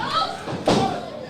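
A wrestler slams onto the ring mat from a Falcon Arrow at a Headlocks for Heroes wrestling event, one sharp thud midway, with a commentator's voice over the crowd before and after.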